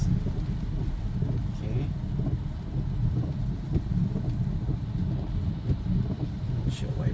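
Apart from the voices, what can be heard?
Tesla Model Y driving on Full Self Driving Beta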